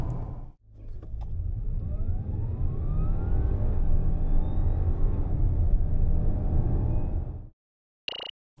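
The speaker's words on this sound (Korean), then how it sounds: "A7 PHV 발진 가속 성능 얼마나 나왔는지 볼까요?" Audi A7 PHEV 55 TFSI e quattro accelerating hard from standstill, a sustained rising engine roar with upward sweeping tones for about seven seconds before cutting off, followed by a brief electronic chime.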